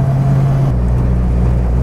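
Engine of a 1000hp Fox Body Mustang on Holley EFI with a massive throttle body, running steadily with a deep droning tone and a slight shift in pitch partway through, close and fairly loud with no talk.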